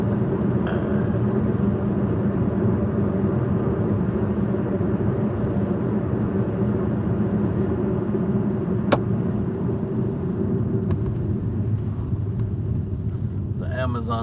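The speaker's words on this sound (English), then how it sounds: "It's an Amazon truck." An Amazon delivery truck rolling past near a warehouse, a steady low engine and tyre rumble holding throughout at close range with a faint click partway through.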